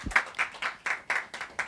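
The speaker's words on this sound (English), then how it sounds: "Can we give him another round of applause?" Clapping at an international conference session: about seven distinct, evenly spaced claps, fairly faint and sparse, like a single pair of hands or a small, thin round of applause.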